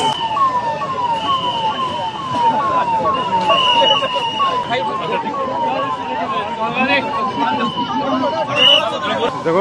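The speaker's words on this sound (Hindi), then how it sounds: "देखो काश्मीर पूछ रही थी फायर ब्रिगेड किस लिए है ना" A fire brigade siren wails in a repeating rising and falling cycle during a blackout drill at the Jaunpur police lines, heard from a moderate distance over crowd babble and nearby voices.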